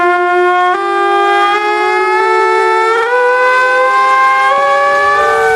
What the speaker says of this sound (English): It's a siren that for 300 years has told anyone in the park